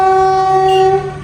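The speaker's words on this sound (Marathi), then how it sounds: "आता ट्रेन येईल बघा." A train approaching a railway crossing sounds its horn in one loud, sustained, steady blast that tails off near the end.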